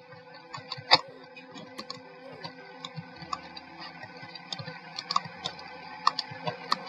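Rapid, irregular mouse clicking during a Roblox Shadow Run obstacle stage, crisp close clicks coming in quick clusters over a faint game background, with little talk.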